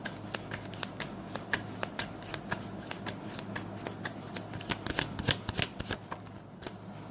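Tarot cards being shuffled in a steady run of crisp riffling flutters, close and fairly quiet, with a low background hum and no talking.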